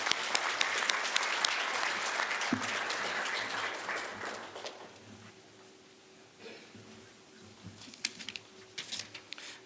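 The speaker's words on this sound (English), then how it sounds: "Let's give them a round of applause" Applause at a rising sophomore ceremony rolls steadily for about five seconds after an award name is read, then fades to quieter room noise with a few scattered claps and faint chatter.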